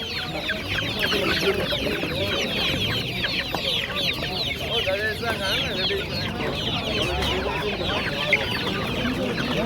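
Many chickens at a poultry market cluck continuously in a busy, overlapping chorus, close and loud, with a faint voice now and then underneath.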